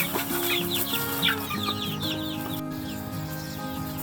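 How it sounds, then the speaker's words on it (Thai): Several chickens cluck and chatter continuously close by, with short repeated calls overlapping through the whole stretch. "ช่วงเย็นๆก็มาให้อาหารไก่แบบนี้แหละครับ"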